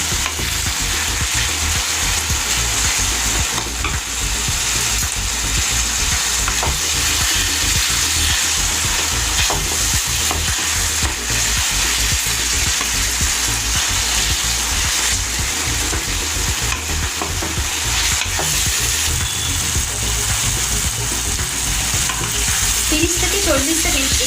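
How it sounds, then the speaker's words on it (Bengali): Chili prawn masala, Bengali style, fries in oil over medium heat, a loud, unbroken sizzle with steady scraping and stirring of the pan throughout, no one speaking. "40 সেকেন্ড এইভাবে ভেজে নেওয়ার পরে দেখবেন তেল ছাড়তে শুরু করেছে"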